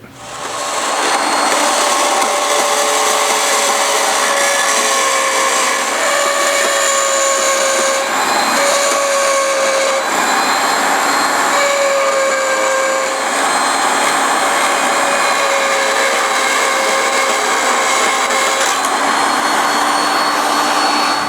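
Loud, steady mechanical whine of a drill running continuously through a metal knife pattern, with shifting pitch as it works through the material, no voices.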